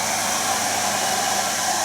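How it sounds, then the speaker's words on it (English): A hair dryer runs off a GT Powertank portable power station, giving a steady, loud, even whoosh of blowing air that holds without a break and has no voices over it. "dryer"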